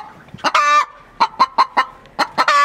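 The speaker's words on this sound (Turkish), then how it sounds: "4 tane yabani tavuğumuz var." Several wild chickens cluck in short, close bursts, with a few longer drawn-out calls at the start and end, heard alone at a farm storage area.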